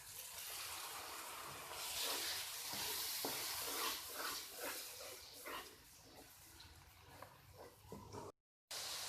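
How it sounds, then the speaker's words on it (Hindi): Spices frying in a pan for a mixed vegetable sabzi give a soft, continuous sizzle, with repeated scraping strokes of a stirring spoon and a brief cut to silence near the end. "हल्का सा इन्हें फ्राई करेंगे और टमाटर का पेस्ट डाल देंगे"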